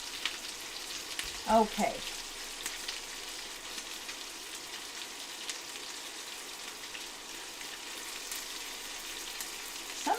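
Dill pickle meatballs fry in a pan with a steady close sizzle, a few brief handling clatters early on, and a single short spoken word.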